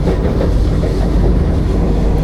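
The Vande Bharat express 20634 to Kasaragod runs at speed with a loud, close, continuous rumble of wheels and rushing wind, no voices.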